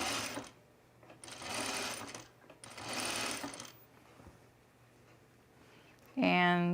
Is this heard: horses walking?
no